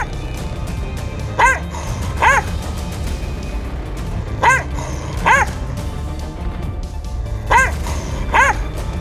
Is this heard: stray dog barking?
yes